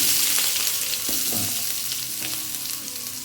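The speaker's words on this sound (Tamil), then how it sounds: "எண்ணெய் ஊற்றிக்கிறோம், கடுகு போடுவோம், பெரிய வெங்காயம் போடுறோம்" Large onion frying in oil with mustard seeds, a close, steady sizzle and crackle with occasional stirring scrapes of a spoon in the pan.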